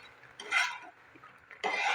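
Coconut peda mixture stirred in a pan over medium flame, two bursts of scraping and stirring separated by a brief quiet pause, close and fairly loud.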